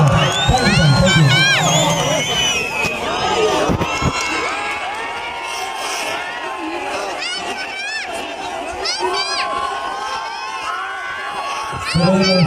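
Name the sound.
crowd applause and cheering welcoming actor Paul Shah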